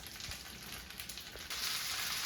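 Noodles heat in a pan on the stove with a steady, close sizzling hiss that swells louder near the end, no voices present.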